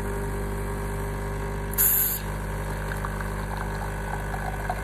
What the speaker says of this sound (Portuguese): Ligar aqui a máquina do café.